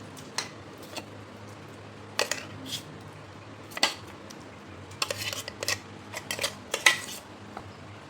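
A metal spoon scrapes and taps inside a mixer grinder jar while scooping out ground dal, a series of sharp, sporadic clinks of varying loudness over a quiet background hum.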